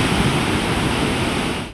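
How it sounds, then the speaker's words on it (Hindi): Floodwater rushes steadily over the path of a broken footbridge linking two villages in Kangra, Himachal, a dense, continuous roar that cuts off abruptly at the end. "2 गांव को जोड़ने वाले पुल के रास्ते पर अब पानी बह रहा है"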